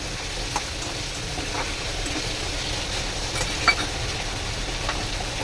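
Pointed gourd fries in spiced oil in a pan for a potato and pointed gourd vegetarian curry, giving a steady, even sizzle that stays close and continuous throughout.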